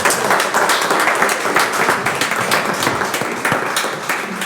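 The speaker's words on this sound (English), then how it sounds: "if we could give these kids and coaches a great big round of applause" A school board meeting audience applauds local student athletes and their coaches with sustained, dense clapping that stays steady and fairly loud throughout, with a few voices faintly under it.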